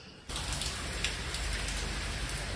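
Heavy rain pours down steadily in a dense, unbroken hiss of drops during a flood in the UAE, loud and close, beginning abruptly after a brief quieter moment, with no talking.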